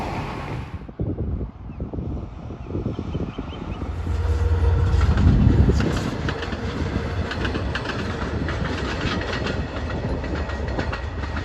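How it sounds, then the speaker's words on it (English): Passenger train 250 runs on the Long Island main line from Ronkonkoma to Greenport on the North Fork, passing the Route 25 bridge over Hashamomuck Pond. Its rumble and wheel clatter swell loudly mid-clip under gusty wind noise, then ease off. "Going to see train 250 en route from Ronkonkoma to Greenport."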